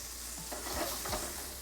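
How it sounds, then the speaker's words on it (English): Eggplant fries in a pan with a steady, close sizzle, broken by a couple of quick stirring scrapes. "And get it frying."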